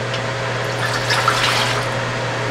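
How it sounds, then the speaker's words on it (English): Vinegar poured into a pot for chow chow relish, a short continuous splashing liquid stream over a steady low hum. "we're gonna add our 4 cups of vinegar"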